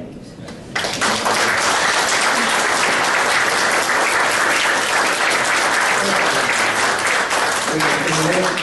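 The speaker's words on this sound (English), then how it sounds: "The survivors are welcome to applaud." Audience applause at a candidate forum at Terwilliger Plaza, loud sustained clapping from a crowd that bursts in under a second after a brief quiet lead-in and carries on steadily for several seconds, with some voices mixed in.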